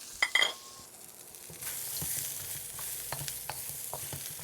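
Peas and fine carrot matchsticks hiss in a hot wok, opening with a few metallic clinks of the utensil before a soft, steady sizzle and occasional stirring scrapes, fairly quiet and close.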